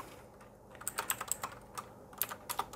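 Rapid computer keyboard typing of code in a web design (CSS) tutorial, a quiet steady run of clicky keystrokes with short pauses, heard alone without any talking.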